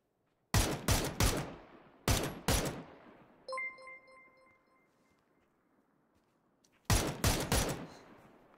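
Video game gunfire during a competitive scrim match: three short bursts of rapid automatic fire, close and sharp, separated by quiet stretches, with a brief electronic beeping tone in the middle gap.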